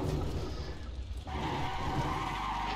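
Car in a drift simulator game straining in third gear, its engine droning loudly and continuously under tire skid noise, with the pitch and texture shifting abruptly partway through.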